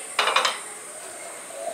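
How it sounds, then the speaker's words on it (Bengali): A wok is set down on a gas stove, giving a quick burst of metallic clanks before the sound settles into a quiet hiss. "কড়াইটা বসিয়ে দিচ্ছি"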